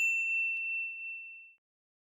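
A single clean, bright notification ding rings out once and decays smoothly into silence, isolated with no voices.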